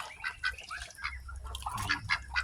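Several ducks, including a Peking drake, call in repeated honking quacks on a duck farm, overlapping and irregular, fairly close with some low background noise.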